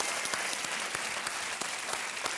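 Studio audience on an Indian television quiz show applauds in a dense, continuous burst, bright and steady throughout with a few sharper claps standing out.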